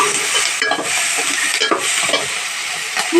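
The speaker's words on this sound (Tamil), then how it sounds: "நல்லா வதங்கினாதான் சட்னி செம்மையாக இருக்கும்." Chutney ingredients sauté in a pan, with a steady close sizzle and frying hiss and a few stirring scrapes breaking in at intervals.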